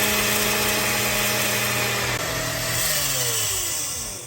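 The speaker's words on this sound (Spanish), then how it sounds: "Tapamos y procedemos a licuar." A kitchen blender runs steadily, blending a pound of onion cut into small pieces, a loud continuous motor whir with a shifting pitch partway through as the load changes, heard alone without talk.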